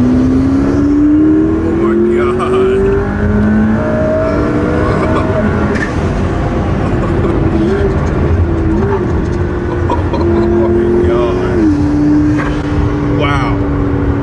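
McLaren P1 sports car engine running loudly and continuously, its rising and shifting tones close by, with people talking over it throughout.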